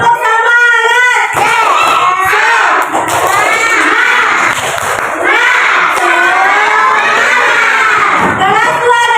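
A class of schoolchildren chanting and shouting together in a loud, rhythmic spirit-clapping routine, voices rising and falling in unison with hand claps mixed into the crowd noise.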